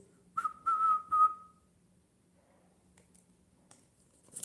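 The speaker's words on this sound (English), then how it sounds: "Somebody's blowing the whistle." Three short, bright whistle blasts at a steady pitch ring out close together within a song, followed by faint background sounds and near-silence.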